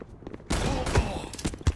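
Sniper fire in the online shooter Gun of Boom: a loud burst of gunfire sets in after a quiet start, with further sharp shot-like impacts following in quick succession.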